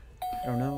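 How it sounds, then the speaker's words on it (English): Doorbell chime ringing in a video game, a single bright sustained tone beginning abruptly and ringing on under a speaking voice. "because that was a doorbell"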